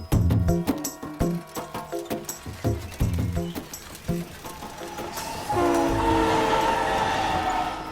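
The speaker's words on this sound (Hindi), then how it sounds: "Chidambaram railway station." A train at Chidambaram railway station, its horn sounding in long tones over a busy, clattering mix, the horn swelling louder in the last few seconds.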